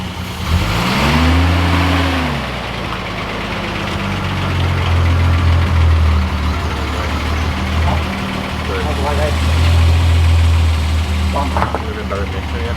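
A Mazda Miata with a Manzo catback exhaust drives past outdoors, its engine note sweeping down as it passes, then a steady loud exhaust drone that rises and fades, with voices nearby.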